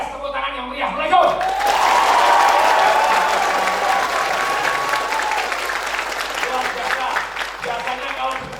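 A roomful of people in a seminar audience breaks into loud, sustained applause, the clapping swelling quickly and holding dense and even for several seconds before thinning slightly.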